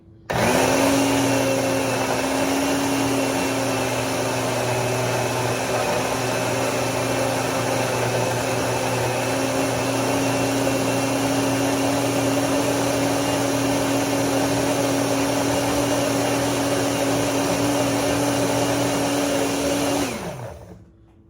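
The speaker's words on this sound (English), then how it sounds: "And we're going to blend." A blender whirs steadily at full speed, blending spinach, celery and orange into a green drink, a loud continuous motor drone holding one pitch for about twenty seconds before spinning down.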